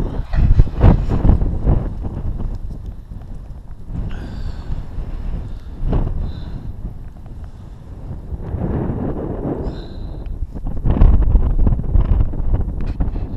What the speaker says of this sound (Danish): Men det blæser rigtig, rigtig meget.